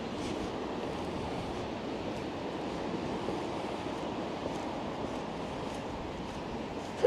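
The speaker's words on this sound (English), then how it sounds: "we're walking into a pretty harsh headwind" A harsh headwind blows against a walking person, producing a steady, blustery low roar and buffeting across the microphone without a break.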